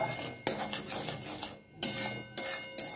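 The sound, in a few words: stirring and frying spice paste in a pan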